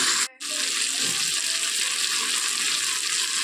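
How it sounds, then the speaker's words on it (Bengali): Fish sizzling steadily in a pan of spiced masala as it is cooked down, a continuous loud broadband fry with a brief dip near the start, no talk over it. "ভালো করে দশ মিনিট আরও কষিয়ে নেব যাতে মশলাগুলো ভালো করে মাছের মধ্যে ঢুকে যায়"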